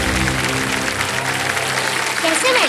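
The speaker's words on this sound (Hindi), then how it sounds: "ताली बजती रहे जानवी जी के लिए।" Studio audience applause on a televised quiz show rolls on steadily and loud, a dense wash of clapping with a voice speaking over it throughout.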